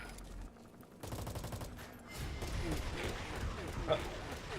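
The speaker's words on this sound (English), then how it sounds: "A single burst from its machine gun can cut gunship in half." Rapid bursts of machine gun fire from an enemy boss in Metal Gear Solid V, sharp clattering volleys building in intensity alongside game noise, fairly faint in the mix.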